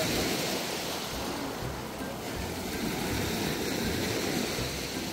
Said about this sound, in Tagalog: Grabe yung hampas ng alon